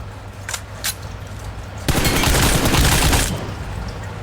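M4 rifle fire in PUBG: a couple of short faint shots first, then a sustained burst of rapid automatic gunfire lasting over a second, loud and close, tapering off with no talking.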